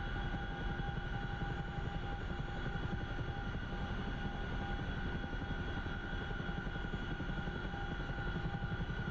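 CH-47F Chinook helicopter in DCS flight simulator cruising along, a steady rotor thump layered with engine drone and tonal whine, continuous and even throughout.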